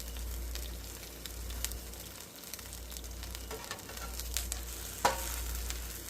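A folded birria taco filled with meat and cheese browns in a hot pan, giving a steady close sizzle of frying throughout with a few sharp pops and a louder crackle near the end, no voices.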